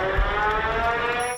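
Civil defense sirens wailing across flooded Venice near St. Mark's Square, a sustained, layered tone with steady rumbling water and city noise underneath, cutting off abruptly at the end.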